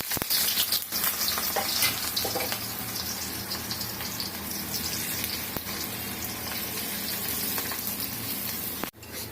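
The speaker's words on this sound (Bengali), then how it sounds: "প্রথমে আমি এখানে একটু পেঁয়াজ দিয়ে দিচ্ছি।" Onions fry in a pan with a loud, steady sizzle that holds throughout, broken by a few scraping stir sounds and a sharp clatter near the end, and no talking.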